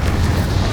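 A fiery Incendio spell bursts out in Hogwarts Legacy, a short, loud, rumbling whoosh of flame that lasts under a second.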